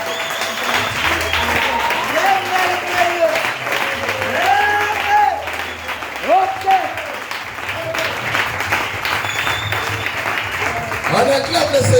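A church congregation applauds and cheers loudly and without pause, acclaiming the Lord during a service. Voices call out and sing over the clapping throughout.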